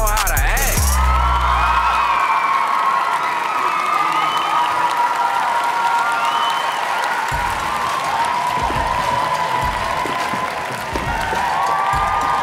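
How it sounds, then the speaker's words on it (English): A talent show crowd cheers and applauds loudly and steadily throughout, with whoops and shouts rising over dense clapping, and brief voices close by near the start. "You hear that crowd?"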